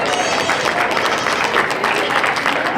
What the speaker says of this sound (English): Could everyone give this class a round of applause